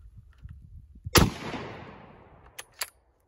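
Single loud blast from a Marlin Model 54 bolt-action 12 gauge shotgun loaded with low brass 7.5 shot, fired outdoors, with a sharp crack and a long fading echo, followed by two faint clicks.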